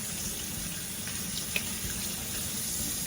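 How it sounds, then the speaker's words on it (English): Tap water runs steadily into a kitchen sink during home cooking prep, a continuous close broadband rush with one brief clink partway through and no talking. "So I have my water here running"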